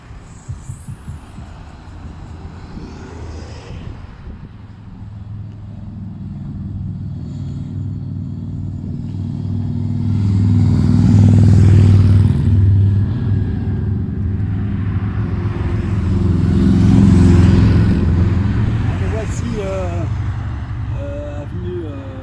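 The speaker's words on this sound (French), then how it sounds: "c'est une voie où les voitures roulent vite" Cars speed along a fast city street, each passing with a swelling, rumbling whoosh that builds and fades, two louder pass-bys standing out over a constant low traffic hum.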